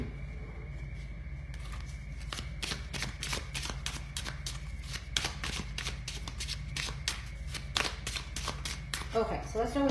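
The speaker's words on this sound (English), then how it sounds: "I'm also going to shuffle some other decks that I have here." Rapid riffle shuffles of playing cards repeat in quick bursts, crisp and close, over a steady low background hum.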